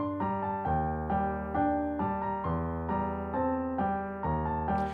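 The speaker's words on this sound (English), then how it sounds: "So the piano melody just sounds like this by itself." Solo piano playing the Silent Hill melody in FL Studio, a steady stream of sustained notes and chords in a slow repeating phrase, close and clear, with no talking over it.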